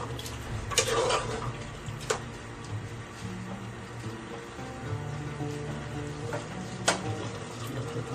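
Mutton sizzles steadily in a hot pan, with occasional scrapes and clinks of stirring, no voices.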